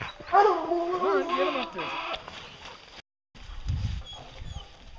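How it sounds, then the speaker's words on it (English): Hunting hounds bark and howl at a bear treed in the woods, wavering baying calls close by in the first two seconds, then quieter scattered yips and rustling. "Pretty sure the dogs are treed right here."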